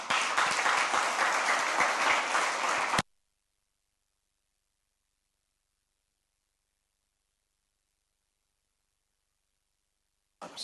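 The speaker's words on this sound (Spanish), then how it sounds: "¿Le da un aplauso a Dios?" Church congregation applauding: a dense burst of clapping for about three seconds that cuts to silence, with a brief return of clapping at the very end.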